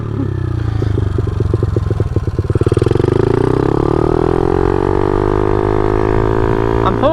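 A small, light 50cc motorcycle engine revs while being ridden, buzzing loudly and close with a choppy, stuttering stretch before climbing in pitch into a sustained high-revving drone.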